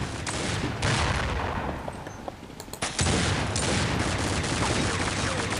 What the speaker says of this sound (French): avec le sniper il est pourri, il fait qu'un tir et il tue personne quoi